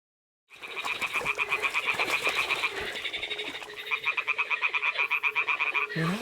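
Toads croak in a video game set in a medieval world, in loud rapid trains of rattling croaks that start abruptly, pause briefly, then resume in a pulsing rhythm close by.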